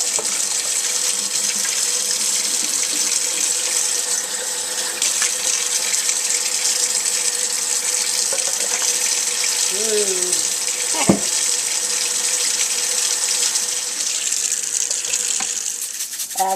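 Water from boiled potatoes pours out into a kitchen sink in a steady loud rush that runs unbroken throughout, with a brief clank partway through.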